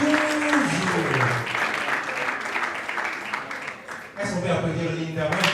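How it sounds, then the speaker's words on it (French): Steady, dense applause from an audience at an awards ceremony, held at a constant level throughout, with a voice speaking over it and music-like tones underneath. "Sous nos applaudissements, Linda, la belle de belle, tout en noir, toujours."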